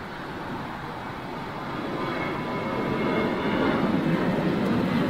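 An Aeromexico Connect aircraft passes with a steady low engine rumble that gradually grows louder, no voices over it.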